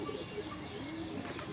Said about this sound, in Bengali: তো আজকে অনেক দিন পরে কবুতরটির ছাড়ছিলাম।